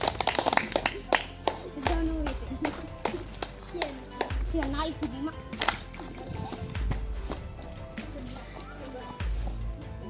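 Applause breaks out for group 3 during a school class activity, scattered claps and taps mixed with children's voices and low thumps, moderately loud and close.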